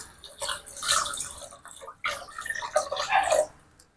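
Water is poured and mixed into a mutton bone soup, giving splashy, sloshing bursts with brief pauses, close and fairly loud, with no voices.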